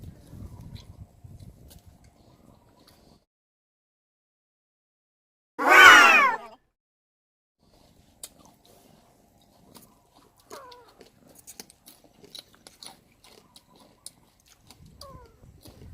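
A single loud, drawn-out cat meow rises and falls in the middle of an otherwise quiet stretch, with faint scattered rustles and distant sounds around it.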